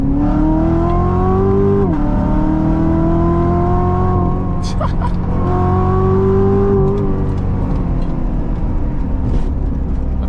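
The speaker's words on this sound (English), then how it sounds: "It's crazy how the stock exhaust in this car pops and burbles." A 700-horsepower Corvette on its stock exhaust accelerates hard onto a freeway. Its loud, continuous engine note climbs in pitch, with two gear shifts audible as brief dips before it pulls up again.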